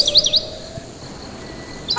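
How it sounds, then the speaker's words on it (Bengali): A few faint, high chirps from cartoon birds in a pleasant Bengali animated scene: a quick flurry at the start and another at the end, over a steady hiss of background ambience. "দেখো কত সুন্দর পাখির ডাক"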